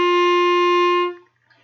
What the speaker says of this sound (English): your open G should sound like this